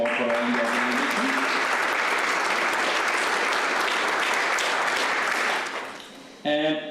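A crowd at a World Drowning Prevention Day event applauds the participating organizations with loud, sustained clapping that fades near the end as a voice briefly returns.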